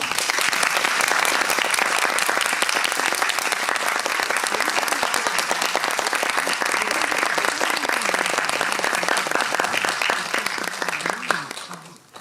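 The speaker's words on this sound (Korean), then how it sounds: "박수로 맞이해주십시오." Loud, sustained applause from a cinema audience at a film director's Q&A, dense clapping filling the room steadily before tapering off near the end.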